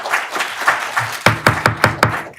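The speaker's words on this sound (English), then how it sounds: "no clapping, please. None of that." Audience members clap at a county council meeting, starting as scattered claps and building into a run of sharp, evenly spaced loud claps near the end.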